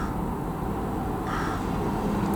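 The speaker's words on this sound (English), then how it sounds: "Mr. Crow is in the tree." A crow caws from a tree near a school playground, a steady harsh call held against constant background noise across the whole stretch.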